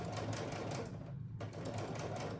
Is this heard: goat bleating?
no